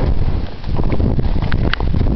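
Strong wind in a mountain blizzard buffets the microphone with a loud, constant roar and rough gusting.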